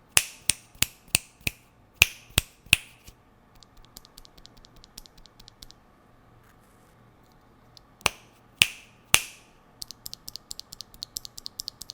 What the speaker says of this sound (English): We're gonna do a comparison of the sound against a